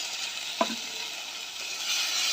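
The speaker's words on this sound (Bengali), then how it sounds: "এরপরে দিয়ে দিলাম মশলা, তারপরে দিয়ে দেবো টমেটো কুচি।" Spices and chopped tomato frying in a pan, a steady close sizzle with a single sharp scrape of a utensil near the start, no speech.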